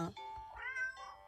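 A cat in a video game gives a single soft, drawn-out meow, close and fairly quiet, rising then falling in pitch over about a second.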